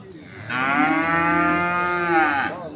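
Calves at a livestock market in Beyləqan give one long, loud, drawn-out moo that swells and holds for about two seconds, close to the listener, with quiet market background before and after.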